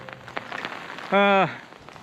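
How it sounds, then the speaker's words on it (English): Heavy rain pattering steadily during a storm on southern Vancouver Island, a constant hiss of drops on surfaces, briefly interrupted midway by a short harmonic tone. "the storm was unrelenting, with heavy rain and winds gusting at 35 kilometers an hour or more"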